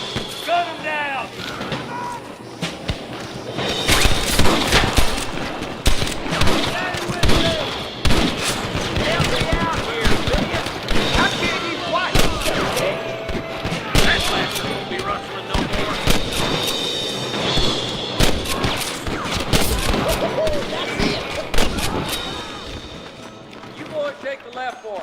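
Rapid gunfire crackles through a Red Dead Redemption shootout, sharp repeated shots and bursts layered over shouting, music and game noise for the whole stretch, loud and dense with short pauses.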